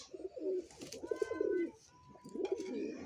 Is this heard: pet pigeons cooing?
yes